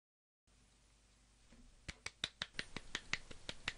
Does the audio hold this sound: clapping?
yes